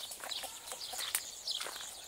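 Soft, quick clucking and calls from a nearby young rooster and chickens, with faint rustling in between, quiet and brief.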